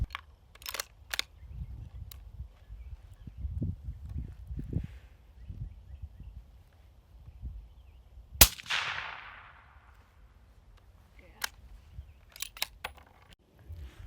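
A single sharp, muffled crack of a suppressed gunshot rings out partway through, fading quickly, with faint clicks and rustling before and after.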